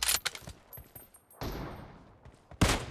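Sniper rifle fire in the mobile battle royale game BGMI, with a few sharp gunshot cracks, a longer decaying blast, and another loud shot at the end, all fairly close.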